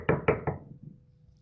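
Knocking on a door: three quick, sharp raps in a row that ring briefly and fade, heard alone and close.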